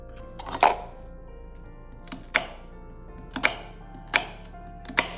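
Knife chopping an onion into small pieces on a board, five crisp separate chops spaced about a second apart, close and clear with no talking.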